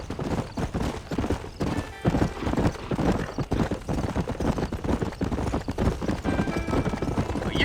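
Horse hooves galloping in the video game Red Dead Redemption, a rapid steady clip-clop rhythm close up with a brief whinny, continuous throughout.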